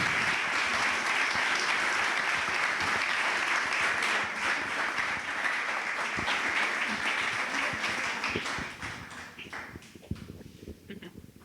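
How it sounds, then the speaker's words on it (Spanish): An audience at a mountain event in Puente Viesgo claps steadily in dense, sustained applause that thins out and fades near the end, leaving a few scattered claps. "lo primero les podemos dar un aplauso"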